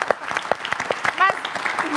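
A studio audience at a political talk show gives brief, scattered applause, sharp separate claps rather than a full ovation, with voices mixed in.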